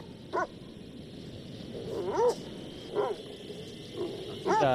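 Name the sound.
dog in video game The Dark Pictures Anthology: The Devil in Me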